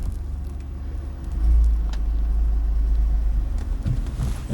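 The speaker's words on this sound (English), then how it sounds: "Adding a bit of gas to give it a bit of power because it's quite steep here and the car is struggling to go up the hill." A car engine labouring as it climbs a steep hill during a driving lesson, a low rumbling drone that swells as gas is added and holds steady.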